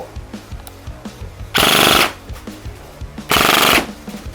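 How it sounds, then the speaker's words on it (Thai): An electric CM041L MP5K BB gun fires two short full-auto bursts, each a loud, rapid mechanical rattle lasting about half a second, separated by quieter handling clicks. "ออกมายิงได้เลยนะครับ อ่าครับออโต้"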